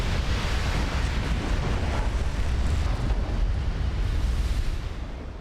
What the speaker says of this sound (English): Ammo detonation.